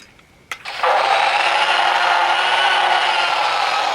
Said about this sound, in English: So you torque the jaw and he moves.